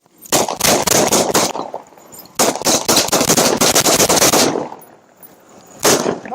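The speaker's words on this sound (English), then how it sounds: "The suspect emerged in a shooting stance and an officer-involved shooting occurred." Rapid bursts of gunfire crack out during a police officer shootout with an armed man, in loud clustered volleys of many shots with short pauses between them, ending with a final burst, close and sharp.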